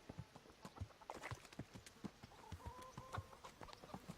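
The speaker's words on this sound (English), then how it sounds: "I'll just take this horse." Horse hooves clip-clop in a steady walking rhythm in the video game Kingdom Come: Deliverance, faint and continuous with light farmyard sounds in the background.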